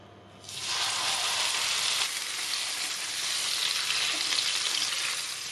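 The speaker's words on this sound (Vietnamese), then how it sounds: "mình chiên ở lửa lớn" A loud, steady sizzle of beef frying in hot oil over high heat starts abruptly and continues evenly, close up, with no voices.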